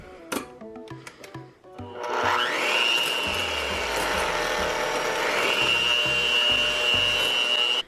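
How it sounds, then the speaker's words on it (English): An electric mixer whirs steadily as egg whites are whipped with sugar and cream of tartar for meringue, a sustained close motor whine after a few clinks, no talking. "whip up the egg whites"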